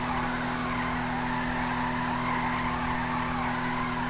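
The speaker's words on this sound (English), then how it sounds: "We might as well do a donut check" Car doing donuts with its tires skidding and squealing, a loud, sustained screech with steady tonal hums beneath, continuous and close, with no one talking.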